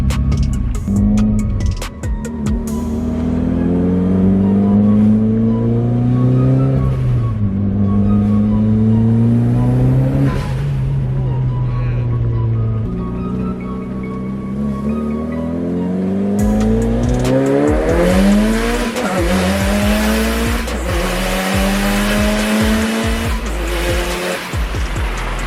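Mitsubishi Evo 8 with aftermarket coils and a titanium exhaust manifold accelerating hard, engine note climbing repeatedly through the gears with boost held in fourth, loud and close throughout with brief tire chirps.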